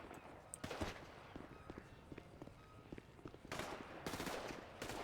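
Sniper and other gunfire in a video game, sharp cracks in a few bursts near the start and toward the end over busy background game noise.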